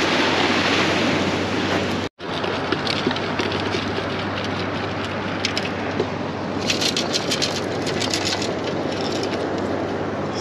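Surf breaking steadily on a sandy beach at Vilano Beach, a continuous wash of waves with wind buffeting the microphone and a brief dropout early on.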